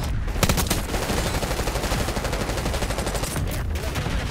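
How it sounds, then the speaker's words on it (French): Continuous rapid gunfire in the shooter Black Ops 6 hammers away loud and close for the whole stretch, a steady stream of shots with no speech over it. "J'ai tiré n'importe où"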